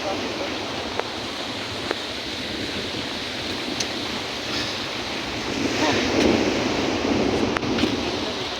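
Sea waves at Limpapa Resort beach in Zamboanga City, Philippines, a continuous washing surf roar with wind buffeting the microphone, swelling louder toward the end.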